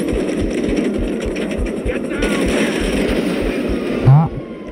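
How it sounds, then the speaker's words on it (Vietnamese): Gunfire from the GTA video game rattles out in a rapid string of sharp shots with a steady rhythm, joined by a louder burst near the end, all sitting over continuous background sound. "Bắn súng ghê, mọi người thấy bắn súng có ghê không?"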